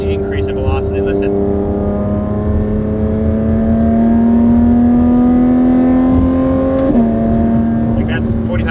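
Porsche 992 GT3RS flat-six with titanium race exhaust and free-flow headers, revving loud and close in one long sustained climb, pitch rising steadily before dropping sharply near the end.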